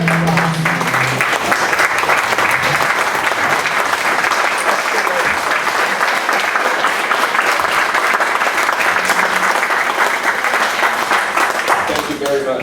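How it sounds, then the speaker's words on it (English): Members of a Rotary Club sunrise breakfast meeting give loud, sustained applause, a dense continuous roar of many hands clapping close by that holds steady for over ten seconds before tapering slightly at the end. "Please join me in a round of applause"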